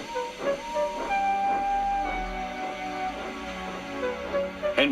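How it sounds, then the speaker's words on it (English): A steam locomotive hissing steam, a steady close hiss with rhythmic pulses and a faint tonal whine, with no talking. "He didn't have enough steam and came to a stop outside Edward's station"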